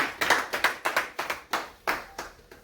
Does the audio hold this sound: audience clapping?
yes